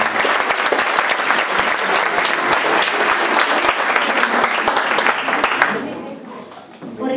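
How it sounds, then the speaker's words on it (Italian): An audience applauds performers at the Premio Gaber 2017 school theatre event in Sarzana, dense sustained clapping that fills the room for several seconds before quickly fading out. "Ringraziamento ed un applauso a tutti i ragazzi di Sarzana."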